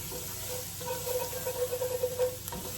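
Garlic sizzling in a pot as the base for tomato cheddar soup, a quiet steady hiss and crackle up close with a faint tonal hum behind it.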